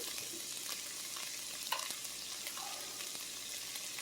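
A pan heating on the stove gives off a steady, soft frying sizzle with faint crackles, continuous and fairly quiet throughout, with no voices.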